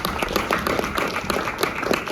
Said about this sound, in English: So let's just have a final round of applause for our panelists.